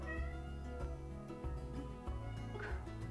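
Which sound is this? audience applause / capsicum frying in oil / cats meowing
cats meowing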